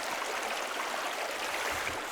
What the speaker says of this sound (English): Now the creek is lower than I expected.